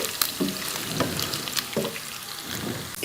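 Qeema wadiyan, a minced meat mixture, fry in a pot with a dense steady sizzle, broken by a few soft knocks and stirring scrapes at a close distance.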